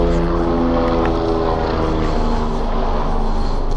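Helicopter rotor drone passes overhead outdoors, a loud steady beating hum filling the whole stretch with no speech over it.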